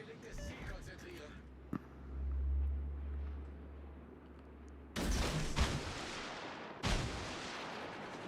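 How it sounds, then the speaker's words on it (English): Warship guns in World of Warships: Legends boom in heavy salvos, one deep blast rumbling low early on, then two loud crashing volleys later, with a faint background hum between shots. "All stations, concentrate fire on that target."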